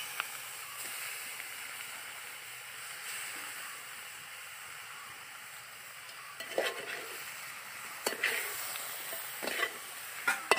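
Chicken tossed into masala and stirred in a pan for chicken roast, giving a steady close sizzle and hiss with occasional scraping stir sounds growing more frequent toward the end, no talking.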